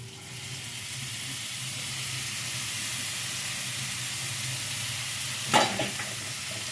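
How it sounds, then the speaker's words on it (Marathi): Chopped wild greens in a hot pan hiss steadily like steam, with a brief burst of louder crackling and stirring near the end; no voices. "आता आपण त्यात चिरलेली भाजी टाकूयात"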